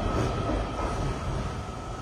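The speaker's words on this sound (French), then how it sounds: "C'est peut-être mon train qui vient d'entrer en gare." A metro train pulls into a station with a steady, loud rumble and rail roar that fills the whole moment, with no voices.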